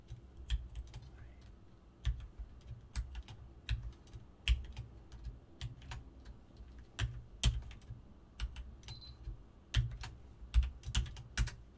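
Computer keyboard typed on quietly and carefully while entering a password during a FreeBSD 11 server setup, irregular clicks and taps of separate keys, close and soft, with no voices.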